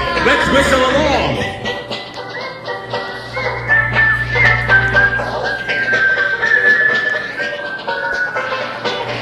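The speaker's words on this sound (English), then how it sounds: "Let's whistle along." Someone whistles a melody along with music in the video game Roblox, sustained tones gliding over an accompaniment.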